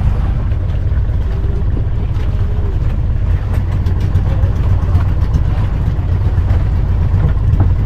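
Fishing boat engine running steadily at close range, a loud, constant low rumble with rattling over washing water, no pauses and no clear talk.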